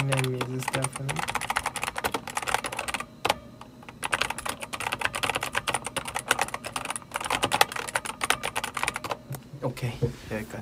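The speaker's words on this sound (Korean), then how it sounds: "이 타이핑한 소리가 좋대. ASMR 한번 해볼까?" Rapid, close clicking of computer keyboard keys runs steadily for about ten seconds, with brief pauses and light background chatter.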